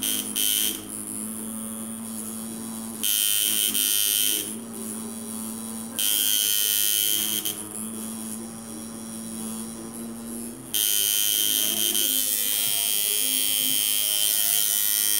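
A tattoo machine buzzing loudly and close in a steady electric drone, switching on and off in several stretches of a few seconds each and then running continuously near the end, with no talking.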